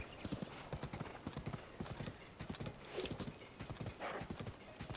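Horse hooves galloping in the game Tears of the Kingdom: a steady, fast clip-clop rhythm that goes on throughout, moderately quiet, with a brief whinny-like sound partway through.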